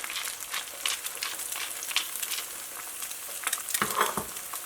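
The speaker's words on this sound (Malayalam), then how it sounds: "ഇതെല്ലാം കൂടിയിട്ടൊന്ന് മിക്സ് ചെയ്യാം." A utensil stirs raw egg seasoned with salt and pepper in a bowl, making soft, irregular wet scraping and clicking close by, with a few sharper taps near the end and no speech.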